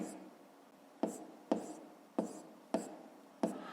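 A pen taps and scratches on paper while numbers are written, with about six sharp strokes spaced roughly half a second apart, close and quiet.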